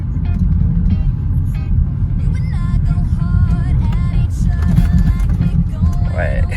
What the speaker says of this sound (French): On va se faire un petit launch control